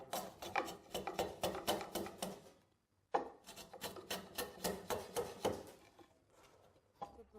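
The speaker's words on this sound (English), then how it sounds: "we can shave off half of that using this chisel" A carpenter's chisel pares thin shavings from a wooden joint in quick rhythmic strokes, a crisp rasping scrape repeated about a dozen times in two close runs separated by a short pause.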